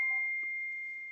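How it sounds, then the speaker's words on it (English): A steady single-pitched electronic phone beep or ring tone, held through the whole moment and slowly fading, with no voices over it. "Somebody's phone is going off."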